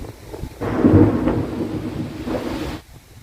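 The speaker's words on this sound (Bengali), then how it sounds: "মাঝে মাঝেই দেখুন ঝড় উঠছে, পাতাগুলো বাড়ি দেয় জোরালো যখন হাওয়া হয়" Thunder rumbles low and heavy with gusting wind over a cucumber field before rain, one long roll swelling and fading.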